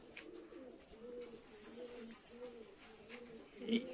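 Male pigeons let out of a cage coo softly and repeatedly in low rounded phrases, fairly near, over a quiet background, with one slightly louder coo near the end.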